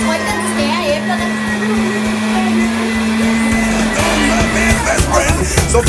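A blender whirs steadily as it churns apples for a smoothie, a loud continuous motor drone with a fixed hum that shifts and rattles near the end, voices talking faintly underneath.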